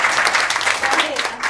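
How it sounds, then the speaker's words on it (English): Audience applause at a panel conversation event, a brief burst of steady clapping from a crowd that carries on throughout. "a round of applause for Nadia."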